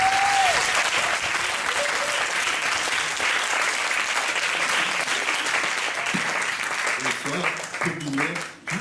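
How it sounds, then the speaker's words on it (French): A crowd at a France–Québec slam poetry match gives loud, sustained applause that keeps going for several seconds, with an amplified voice speaking over the clapping at the start and again toward the end. "Un tonnerre d'applaudissements, s'il vous plaît, pour l'homme qu'on appelle Slam Dunk"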